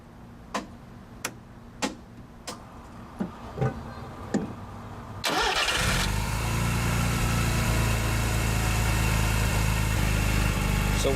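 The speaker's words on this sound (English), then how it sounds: "Let's go ahead and start it up." A Mazda RX7 under diagnosis for a weak charging system: a series of sharp, evenly spaced clicks, then the engine cranks, catches and settles into a loud, steady idle that runs close up to the end.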